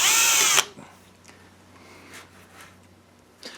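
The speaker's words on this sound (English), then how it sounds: "We're going to cheat and use the old drill on it" Power drill backing Phillips head screws out of a 1965 Ford Mustang part, one short loud whirring burst at the start, then quiet workshop handling sounds and small clicks.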